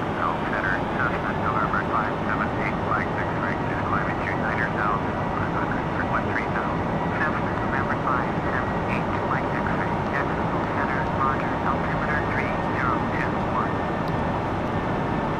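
A QualityWings 757-200 airliner descends toward Orlando in a flight simulator game. A steady, even engine drone runs throughout, with faint chirping tones layered over it.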